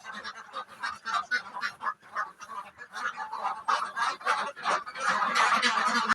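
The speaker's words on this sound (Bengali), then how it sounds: "এই দেখেন প্রচুর হাঁস" Many ducks at a wetland beel, a dense chorus of overlapping quacks and honks, close and continuous, growing busier toward the end.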